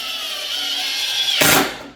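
A Cobalt impact driver runs with a steady high whine close up, then bursts into loud rattling hammering as it engages near the end before cutting off.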